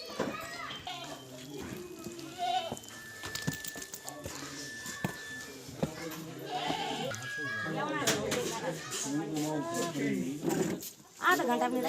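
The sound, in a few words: goats bleating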